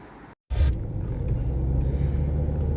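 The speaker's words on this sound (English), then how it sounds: "Right now I am driving on the bridge" A car driving over an old Bailey bridge, heard from inside as a sudden cut followed by a loud, steady low rumble of tyres and engine that continues to the end.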